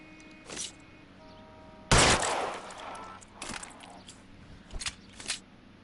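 A sharp gunshot burst in a PS4 police video game, one loud crack followed by scattered smaller shots and impacts that fade into quieter game ambience.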